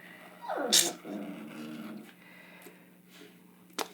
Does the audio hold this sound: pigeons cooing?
no